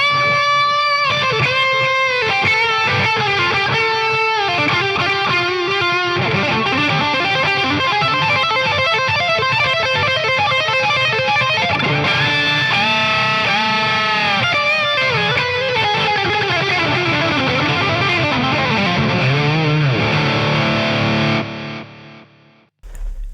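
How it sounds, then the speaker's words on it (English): An electric guitar played through a Revv D20 amp with reverb and delay in the effects loop rings out in distorted chords and single-note phrases, long echoing tails trailing each note before a final fade. "that reverb and the delay are both going through the effects loop"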